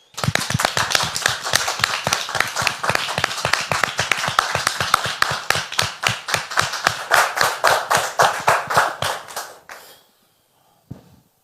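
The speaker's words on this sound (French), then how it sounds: "On peut le recevoir avec vos applaudissements, s'il vous plaît." Studio audience applause welcoming a guest onto a French talk show: dense, loud, steady clapping for about ten seconds, then stopping abruptly, with a brief faint sound after.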